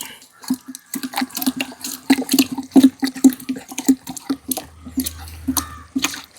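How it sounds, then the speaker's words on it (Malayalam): A stick stirs thick liquid fertilizer in a bucket, making repeated wet sloshing and knocking sounds in an uneven rhythm, up close and fairly loud. "നമുക്ക് ആദ്യം കമ്പ് ഉപയോഗിച്ച് ഇവനെ നന്നായിട്ടൊന്ന് മിക്സ് ചെയ്യാം"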